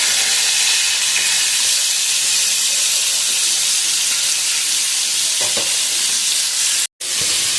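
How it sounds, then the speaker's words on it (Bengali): Pieces of boal fish fry in hot oil, giving a loud, continuous sizzle with faint stirring noises and one brief cut-out near the end. "বোয়াল মাছ কিন্তু সাংঘাতিক ফোটে একসাথেই ভেজে নেবো সব মাছগুলো"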